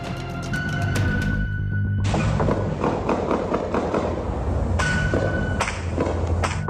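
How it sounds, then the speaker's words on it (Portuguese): Rapid bursts of sharp cracks and bangs, many shots in irregular volleys, loud and echoing, with no talking over them: an exchange of gunfire between police and drug traffickers in a favela complex in Rio de Janeiro's North Zone. "A troca de tiros gravada nesse vídeo dá uma ideia do ataque de traficantes"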